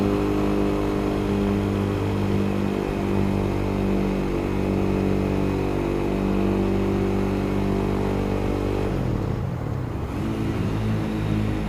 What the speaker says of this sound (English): I just engine braked like a motherfucker there, if you heard that